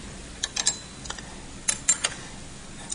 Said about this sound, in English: The top simply screws off.